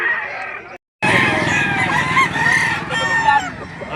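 At a livestock market in Padre Garcia, Batangas, a rooster crows loudly and close by. The call breaks off for a moment and then carries on as a long, strained crow with clucking underneath.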